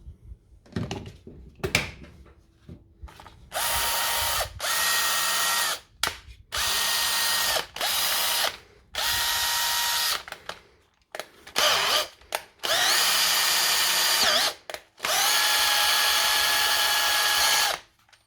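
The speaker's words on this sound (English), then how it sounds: "That's the world's first Dewalt M12 drill." A repaired DeWalt cordless drill whirs in repeated bursts of a second or two, starting and stopping several times, loud and close, with some clicks between runs.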